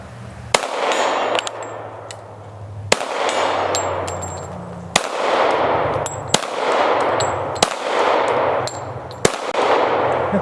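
Shots from a .45 caliber handgun, six or seven sharp loud reports at regular intervals of about two seconds, each followed by a brief ringing echo, close by with no talk.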